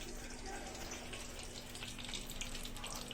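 Cumin seeds sizzle in hot oil in a kadhai as a steady, crackling hiss that runs evenly throughout at a quiet level, with a faint constant hum beneath and no talk.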